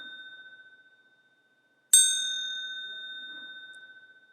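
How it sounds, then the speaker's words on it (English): A bright bell rings with one clear, sharp strike that hums and fades slowly, following the dying tail of an earlier ring, in an otherwise quiet space. "the bell will ring 3 times"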